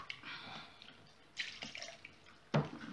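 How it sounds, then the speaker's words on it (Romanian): A little water is poured into a bowl in a kitchen while making crepe batter for lasagna: a few faint splashes and drips, with a brief louder splash near the end. "Să amestecăm așa și am să pun puțină apă."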